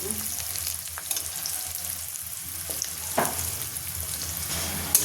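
Sliced onions sizzle steadily in hot oil in a pan, browning for a mutton and potato curry, with a constant close hiss and a few soft stirring knocks throughout.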